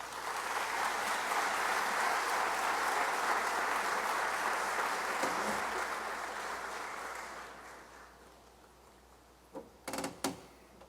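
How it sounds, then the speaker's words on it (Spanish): An audience at a 75th anniversary ceremony of an elections tribunal gives warm, sustained applause that gradually fades out, followed by a few brief knocks or bumps at the end. "les pido recibirlo con un caluroso aplauso"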